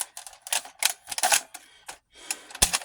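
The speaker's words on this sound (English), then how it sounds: "I'm going to put a banana mag in here." Banana magazine being fitted into a Nerf Delta Trooper blaster, a close run of sharp plastic clicks and rattling snaps with a louder final clack, no talking.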